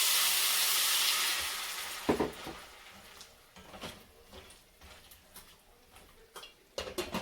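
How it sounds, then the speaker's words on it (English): Green beans with added water hiss loudly as steam bursts up in a lidded pan for about two seconds, then settle into faint crackles and irregular ticking pops. "so now we're going to steam our green beans"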